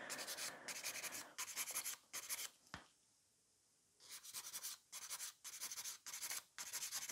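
A nail file rasps across an acrylic nail in repeated, rhythmic back-and-forth strokes, close and crisp, with a short quiet pause partway through before the filing resumes.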